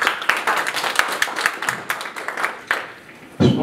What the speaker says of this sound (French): Merci encore à Romain, vous pouvez l'applaudir.